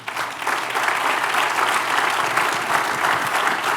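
A church congregation breaks into loud, sustained applause. The clapping swells quickly and holds steady as a dense wash of hands.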